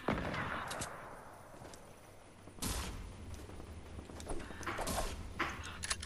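Gunfire in a battle-royale game crackles in sharp separate bursts and brief volleys, fairly close and loud over steady background noise, with no speech.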